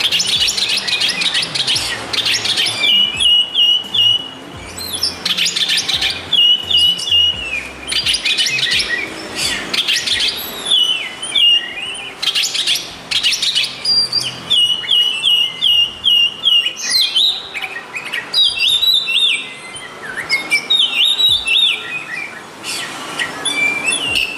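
A small-bodied Oriental magpie-robin sings loud and close, running continuous varied whistles, chirps and trills with brief pauses over about twenty seconds.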